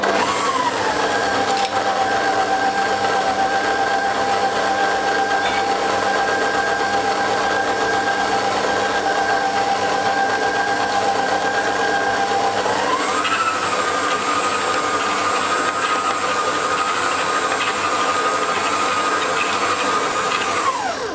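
A stand mixer runs continuously while blending all-purpose and whole wheat flour for bread dough, a steady close motor whine that shifts pitch slightly midway, with no talking.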